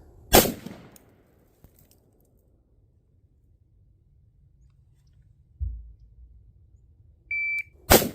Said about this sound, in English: If you aren't using a shot timer to train with, you should